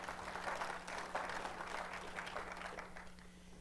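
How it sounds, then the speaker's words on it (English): Audience applause in a hall after a line from a Senate speech by Sen. Chris Coons, a soft, steady patter of many hands heard from a distance, fairly faint with a low electrical hum beneath. "That's worthy of a round of applause."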